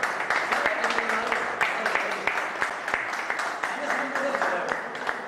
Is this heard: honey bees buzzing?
no